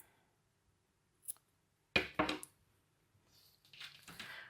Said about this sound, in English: I'm going to go ahead and cut my yarn